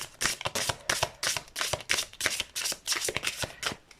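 Tarot cards shuffled in quick repeated bursts, a steady run of crisp riffling flutters close to the listener with no talking.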